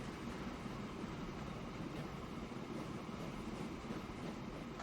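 Trains rolling into a station in the rail-building game Transport Fever, a steady low rumble of wagons and track noise held at an even level throughout, with no talk over it.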